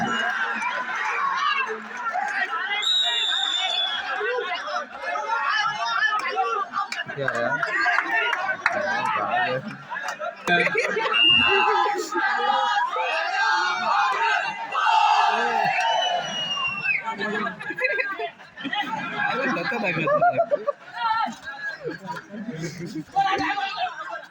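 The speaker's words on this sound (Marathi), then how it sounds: "जल्लोष केला जातोय." A crowd at a kabaddi semi-final roars and shouts in celebration, loud dense cheering and yelling with whistles and overlapping voices throughout, and a commentator talking over the noise.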